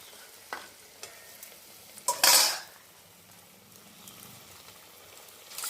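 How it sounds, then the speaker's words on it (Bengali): Potato fritters being fried in oil: a low steady sizzle runs beneath clinks of a utensil against the pan and one sharp, loud burst of spattering hiss as pieces go in. "আলুগুলো আমরা ছেড়ে দেব"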